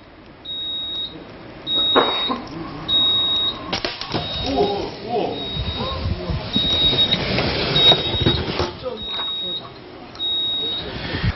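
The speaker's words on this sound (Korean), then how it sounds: "자, 1차 경보음이 울립니다." A prototype fire alarm sounds its first-stage warning tone, a high repeating beep in short evenly spaced bursts. It is fairly faint and runs under someone speaking throughout.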